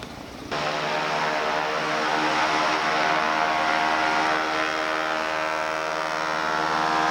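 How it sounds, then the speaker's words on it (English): Small propeller plane, a de Havilland Beaver, engine roaring up abruptly after a quiet start into a loud, steady, droning hum with strong harmonic tones, close and continuous. "we're going in a little plane"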